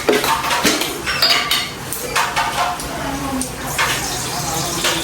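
Ridge gourd washed in water at a kitchen sink, with steady splashing and running water, dish and pot clinks and clatter, and a voice talking over it throughout.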